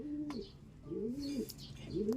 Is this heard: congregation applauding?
no